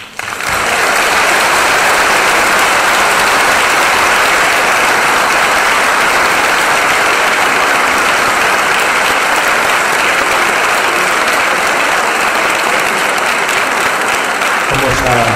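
A large audience at a political forum on alternatives for the global crisis bursts into loud sustained applause, a dense steady roar of clapping that holds for many seconds and then begins to thin.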